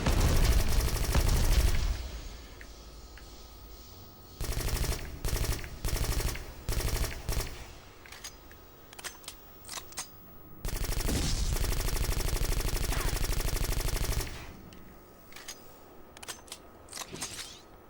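Automatic weapons fire in the Xbox shooter Black, set in the Naszran Foundry level, comes in loud sustained bursts of rapid shots separated by short gaps, with single sharp reports scattered between the longer volleys.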